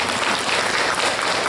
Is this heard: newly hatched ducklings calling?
no